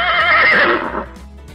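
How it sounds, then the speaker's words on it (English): A horse whinnies loudly and close up in a toddler animal-sound guessing game, one long falling neigh lasting about a second that ends in a quieter snort. "Great job! It's a horse!"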